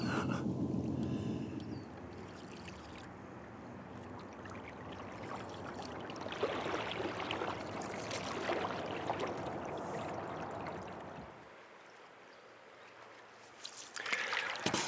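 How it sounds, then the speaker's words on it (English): A canoe paddled across water, with soft sloshing and dripping strokes that go on steadily and then fade to near quiet before a brief rise at the end. "Paddling a canoe."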